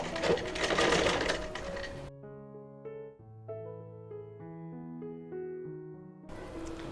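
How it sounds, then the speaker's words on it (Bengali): A sewing machine stitches the round neckline of a maxi dress in two loud, rapid mechanical bursts, one at the start and one at the end, with soft music playing between them. "সাইড থেকে এবার সেলাইটা করবো"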